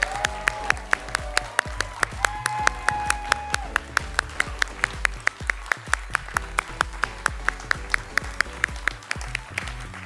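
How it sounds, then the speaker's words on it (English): Applause from a graduation ceremony audience honoring the Class of 2020 and 2021 graduates, a sustained round of clapping with a steady rhythm of sharp claps over a continuous wash, with some background sounds mixed in. "let's have a last round of applause for these incredible graduates"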